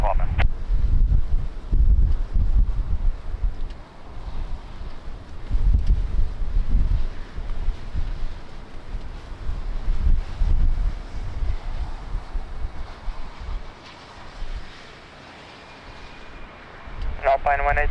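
Strong wind buffets the microphone at Lisbon Airport, a steady low roar with gusty swells that eases late before rising again, with brief tonal chirps near the end.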